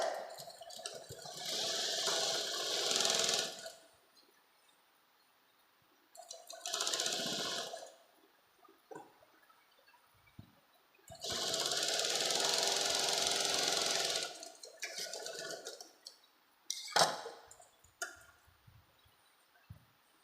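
A sewing machine stitches patiala salwar fabric in three separate whirring runs of a few seconds each, split by quiet pauses and small handling clicks.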